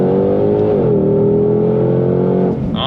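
A Ford Shelby GT500 (S550 Mustang) V8 revs hard on throttle, its exhaust a loud, close, steady roar that dips slightly in pitch partway through and holds until a brief change at the end.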